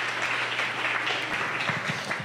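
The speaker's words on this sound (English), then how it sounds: "Round of applause, please." Audience applause after thanks to sponsors at a Bitcoin meetup, a short burst of moderately loud clapping from a small room crowd, with a low steady hum underneath.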